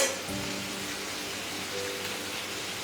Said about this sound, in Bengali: কড়ার তেলটা তো খুব গরম হয়ে আছে তার সঙ্গে এক চামচে ঘি নিয়েছি এবার পেঁয়াজটা হালকা লাল হলে